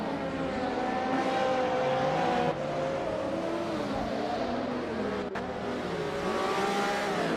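A 2019 Radical SR3 race car engine in a racing video game, a steady high-revving drone with shifting pitch that runs continuously and loud, with one brief dip and a sharp click partway through.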